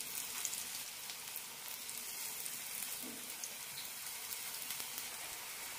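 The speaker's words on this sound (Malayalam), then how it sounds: "എണ്ണ ചൂടായിട്ടുണ്ട്. ഷാലോ ഫ്രൈ ആണ് ചെയ്യാൻ പോകുന്നത്." Breadcrumb-coated poha cutlets shallow frying in hot oil, giving a steady close hiss and sizzle with faint crackles throughout and no talk.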